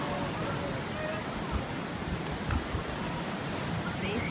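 Strong wind roars steadily across a beach, buffeting the microphone with constant broadband rushing and occasional gusty thumps, loud and unbroken for the whole stretch.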